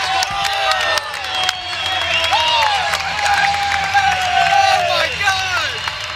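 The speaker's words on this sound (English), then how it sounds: "this place is on their feet, cheering nice and loud" A home crowd at Ball State's Worthen Arena cheers and applauds loudly through a college volleyball match against Hawaii, a steady roar of clapping and shouts with whistles and squeaky sneakers over it.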